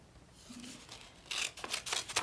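Scissors snip through folded paper in a few crisp, close cuts, the sharper snips clustering toward the end.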